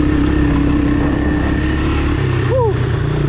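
A Honda Big Red 250ES three-wheeler runs hard in fifth gear, its engine droning loud and steady up close, with the pitch shifting slightly as it pushes along.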